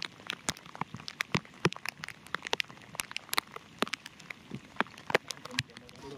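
Rain patters in irregular drops on a hard surface nearby, sharp taps spread steadily throughout.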